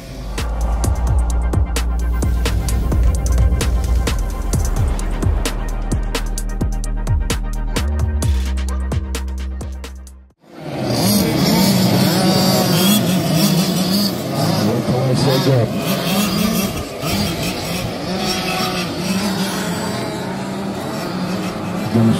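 Petrol engines of 1/5 scale RC two-wheel drive touring cars race during a qualifier, a loud continuous buzzing drone that rises and falls as the cars lap. The drone briefly dips, then returns busier with several engines overlapping.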